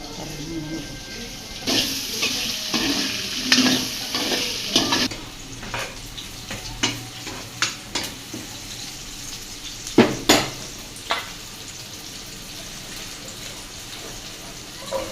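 Yardlong beans sizzle steadily in a pan on a stove while a utensil stirs and scrapes against the pot in repeated sharp clatters, close and clear, with no talk.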